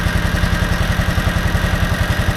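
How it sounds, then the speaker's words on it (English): An air-cooled engine on a John Deere Gator TX utility vehicle with about 600 hours on it idles close by in a steady, even chugging pulse with a light mechanical clatter. "Nice little air-cooled engine."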